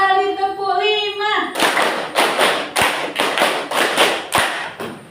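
A classroom of children claps in a steady rhythmic run of about ten sharp, loud claps after a short sung phrase, with young voices mixed in.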